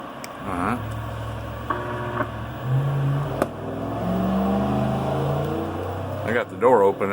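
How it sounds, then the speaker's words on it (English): Road traffic heard through an open door: steady engine rumble and cars passing outside, continuous and moderately loud, with a brief rising whine near the end. "I got the door open, and I guess y'all can hear all the cars in the background"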